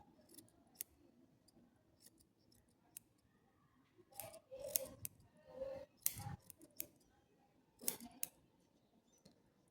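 Scissors snip yarn while a pompom is trimmed, giving a series of quiet, irregular cuts and crisp metallic snaps, some in quick clusters, with soft handling rustle between them.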